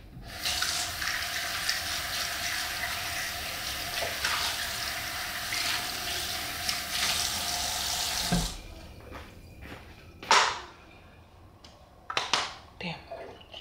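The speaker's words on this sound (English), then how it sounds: "Let me rinse this off." Tap water runs steadily into a sink for about eight seconds while something is rinsed under it, then stops, followed by a few scattered clattering handling sounds nearby.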